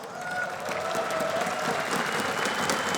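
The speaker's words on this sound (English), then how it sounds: "A big round of applause." A crowd in the hall at a CS:GO semi-final at ESL One Katowice 2014 gives sustained applause, a steady roar of clapping and cheering with no voice over it.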